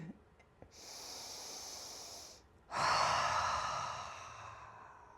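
Deep, slow yoga breaths close to the mic: one long airy inhale, a brief pause, then a fuller, forceful exhale that tapers gradually, soft and breathy with no talking.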